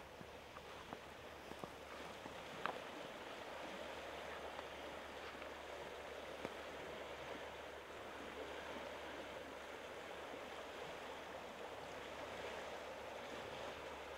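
Waves wash against the sandy shore of Lake Superior on Madeline Island in a soft, steady, distant rush mixed with light wind, with no voices.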